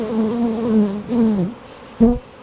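Honeybees buzz around an opened hive, a few close individual bees droning in rising and falling passes, with a short sharp buzz near the end.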